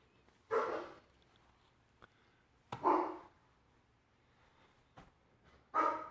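Dogs bark in three separate short bursts, spaced a couple of seconds apart, at moderate distance outdoors on a golf course, with quiet gaps between them and no talk.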